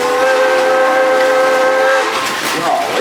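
A steam train whistle at Silver Dollar City gives a loud, sustained toot, close and clear, trailing off into crowd noise near the end.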